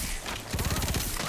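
Rapid bursts of gunfire in the video game Tiny Tina's Bunkers and Badasses, a dense rattling volley that starts about halfway through and runs to the end, loud and close over a steady game background.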